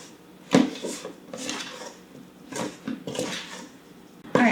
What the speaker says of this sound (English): we can go ahead and start mixing everything together here